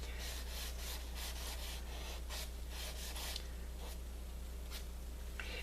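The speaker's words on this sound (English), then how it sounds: "if I'm working with mass, I can use the side of my charcoal" Charcoal stick dragged sideways across paper for broad shading, a steady close-up rubbing scrape in repeated strokes over a constant low hum, no voices.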